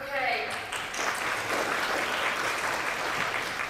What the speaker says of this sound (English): Probably deserves a bit of a round of applause on that